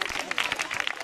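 An audience applauds a music duo at an autumn festival: a short burst of dense clapping from a crowd, fairly close and steady, with a voice over it.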